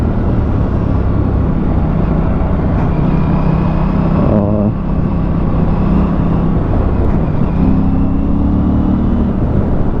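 An Aprilia RS 457 sport motorcycle engine drones loudly and steadily while being ridden, its exhaust note constant under heavy wind rush, with a brief dip like a gear change midway.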